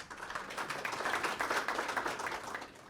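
Audience at the opening ceremony of the SAGO 2022 event claps, a moderately faint, dense patter of hands with a gently pulsing rhythm for a few seconds.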